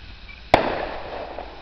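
A single Fourth of July firework bursts at a distance in Western New York, one sharp boom followed by a long rumbling decay over faint background ambience.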